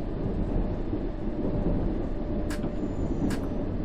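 A London Underground train in a simulator game runs steadily with a constant low rumble and hum, joined by two brief hissing bursts partway through, with no talking.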